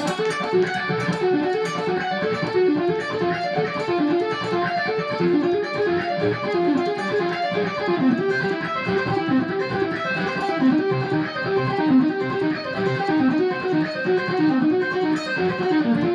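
Continuous electric guitar with a distorted, effected tone, playing flowing arpeggiated patterns descending by whole steps that keep moving steadily for the whole stretch.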